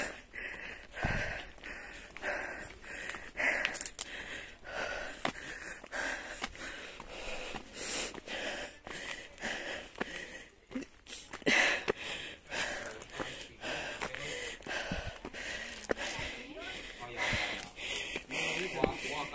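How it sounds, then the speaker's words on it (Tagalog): Heavy, rhythmic panting and sniffing from a hiker climbing uphill on a trail on Lamma Island, Hong Kong, breaths close and ragged over about twenty seconds, with some talk mixed in. "Grabe ang hingal."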